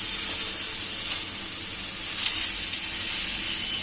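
Vegetables for a Bengali sukto sizzle and fry steadily in a pan, a continuous bright hiss close by with faint stirring clinks, no talking.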